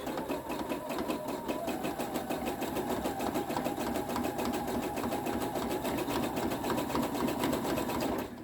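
A sewing machine runs steadily and loudly through thick oven mitt fabric with a normal needle, a dense continuous whirring stitch lasting the whole stretch without pause.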